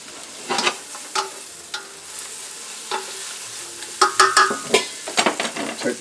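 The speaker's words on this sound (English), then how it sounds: "Now I want to add the shallots." Shallots hitting a hot pan for chicken marsala, giving bursts of sizzling and frying with scraping stirs and light utensil clinks against the pan, crackling more densely toward the end.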